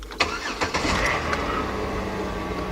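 A 2006 Chevy Impala with a 3.5 engine, check engine light on, cranks with a few quick clicks and whirs, catches, then settles into a steady close idle; no one speaks.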